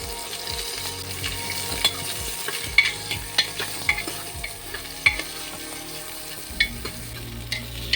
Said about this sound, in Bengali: এবার আমি ফুলকপিগুলো দিয়ে দিচ্ছি এগুলো তেলে একটুখানি ফ্রাই হবে হালকা করে